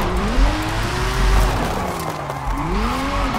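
A 2021 Bentley Flying Spur with a drift setup and 1750 hp, driven in Forza Horizon 5: a loud, steady engine note rises and falls over continuous tire squeal while the car slides.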